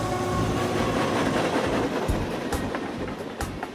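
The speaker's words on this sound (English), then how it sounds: "he can hear the train as it goes by" A train rolls past near an old tin barn northeast of Oklahoma City, a loud, steady rumbling roar with scattered rattling clacks throughout and no voices.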